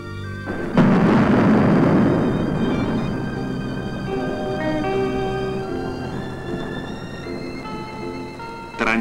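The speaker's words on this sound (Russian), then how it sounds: "Направленный взрыв должен убрать с пути строителей свыше 2000 кубических" A directed blast in hard rock: a sudden deep boom erupts and rolls into a long rumbling roar that slowly fades, with a sharp crack near the end.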